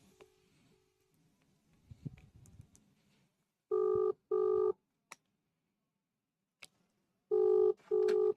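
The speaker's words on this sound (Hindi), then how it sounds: "रिंगिंग आ रहा है" Outgoing phone call ringback tone: two long paired beeps, a pause, then another pair, clear and close, after a stretch of quiet handling noise.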